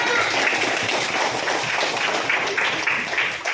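Classroom applause for a pupil at a primary school, a steady patter of many small hands clapping together at moderate loudness throughout, with no pause.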